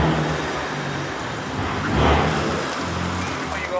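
A BMW S58 engine with a single mid pipe exhaust setup gives a steady, deep, close-up drone that swells briefly midway, with broadband roar and no talking.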